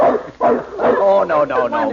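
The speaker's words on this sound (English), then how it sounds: "A dog." A large dog named Happy gives several loud, close barks in an old-time radio drama, the barks interleaved with a man's brief exclamation.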